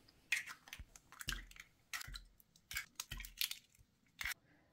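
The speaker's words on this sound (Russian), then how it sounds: "В миску вбиваем 4 яйца." A series of sharp, close knocks and cracks, several in quick succession with pauses between, like shells being tapped against a bowl rim, as four eggs are cracked into a bowl.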